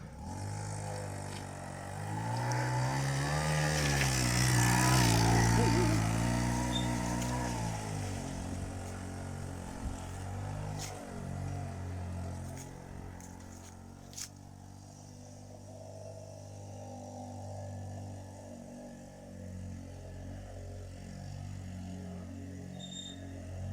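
Peugeot 103 moped engine started and running, a near two-stroke buzz that revs up and swells in pitch early on, then settles into a steadier, quieter idle with a few clicks and knocks.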